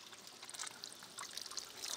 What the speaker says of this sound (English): pump is going. Got plenty of water filling it up